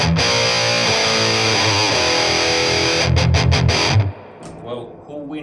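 A heavily distorted electric guitar chord through a Boss Metal Zone distortion pedal rings out thick and saturated, then cuts off abruptly, leaving a short fading tail.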